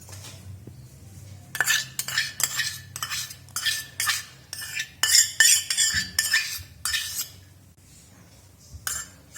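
Milk cream mixed in a bowl with a spoon, a run of close clinking and scraping strokes of metal against the dish over a quiet low hum, without speech.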